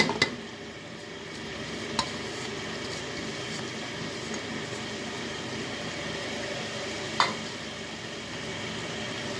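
A soft, steady sizzle with gentle scraping as garlic-ginger paste with salt is stirred in a hot pan for chicken karahi, broken by a few sharp clicks of a utensil against metal.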